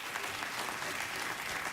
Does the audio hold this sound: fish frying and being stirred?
no